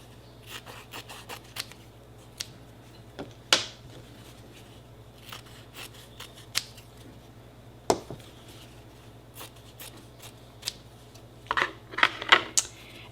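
Scissors snip through the sewn fabric of a pot holder, a scattered series of quiet close cuts with short pauses between them and a quick cluster of snips near the end, over a low steady hum.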